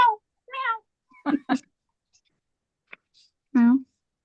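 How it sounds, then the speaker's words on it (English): A domestic cat gives several soft, dainty meows, short and quiet, with a slightly fuller final meow and small clicks between them in an otherwise quiet room. "She's got such a dainty little, quiet little meow."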